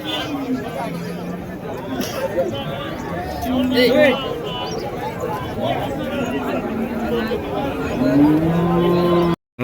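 Bulls at a crowded cattle market in Krishnagiri, with deep lowing calls rising and falling amid constant nearby chatter and crowd babble, someone talking close over it.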